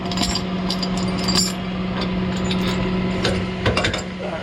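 A tow truck winch winds its cable onto the drum after hooking a vehicle's axle, giving a steady mechanical whir and hum with ratcheting clicks and metallic ticks scattered over it, close and continuous with no talking.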